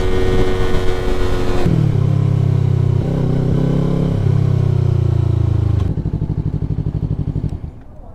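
A Yamaha MT-03 stunt motorcycle engine held at the rev limiter, loud and close, a strained high-revving drone that breaks into a rapid stuttering cut-out pulse near the end.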